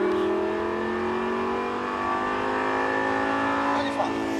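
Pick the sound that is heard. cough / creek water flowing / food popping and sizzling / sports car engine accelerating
sports car engine accelerating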